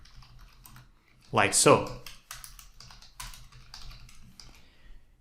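A few quick keystrokes on a computer keyboard, a soft close clatter of clicks, with a voice talking briefly over them.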